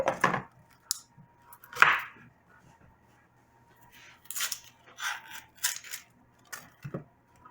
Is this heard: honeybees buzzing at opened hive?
no